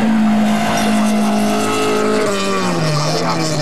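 Race cars overtaking on the back straight at Turkkimäki, their engines a loud, continuous, close-up drone of buzzing harmonic tones. The pitch drops about two-thirds of the way through as the cars pass, with a faint tire hiss and no talking.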